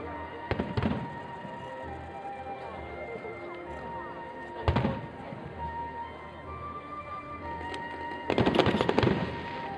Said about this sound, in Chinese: 专心看烟火就好了。